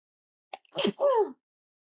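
A short sneeze close to the microphone: a small sharp intake, then a quick two-part burst with a voiced tail, alone in near silence.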